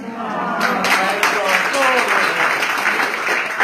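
An audience breaks into applause, a dense steady clatter of many hands clapping throughout, with a voice talking over it.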